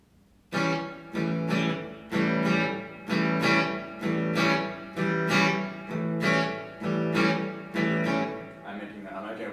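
A guitar plays a steady string of notes in even, straight non-shuffle rhythm, about eleven evenly spaced strums, each ringing briefly before the next, close and clear with no talk.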